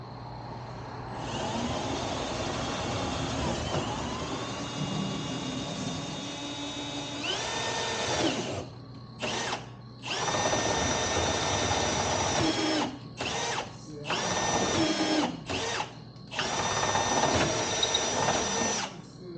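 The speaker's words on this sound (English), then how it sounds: "Maybe this big drill bit will do it since it's just fiberglass." A power drill with a big bit bores into fiberglass in several bursts: a long whining run, then short stop-and-start pulls of rising and falling motor pitch, close and loud.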